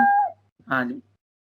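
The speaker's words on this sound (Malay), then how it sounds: "dia akan turun ke sini, turun sini, bunyi meow." A cat meow sound effect played back in the Scratch programming environment, heard as two short, clear synthetic meows in quick succession, close and loud with silence between.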